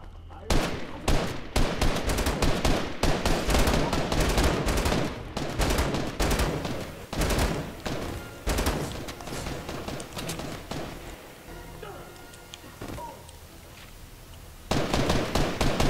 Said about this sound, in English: that is how you deal damage with exploding gas pumps or gas cans